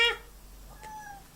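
A cat on a tabletop gives one short, close meow at the very start, followed by faint, quiet room noise.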